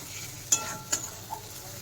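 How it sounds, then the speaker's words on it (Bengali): Onion frying in oil hisses softly beneath three distinct scraping strokes of a spatula against the pan, spaced about half a second apart, with no talking. "তেলের মধ্যে ভাজাটা হয়ে গেল"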